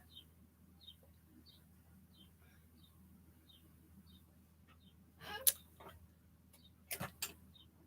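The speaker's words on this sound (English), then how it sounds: "I hear the birds chirping." Faint, high bird chirps outside a window on a morning repeat at a steady pace in the distance, with a few louder close knocks and rustles near the end.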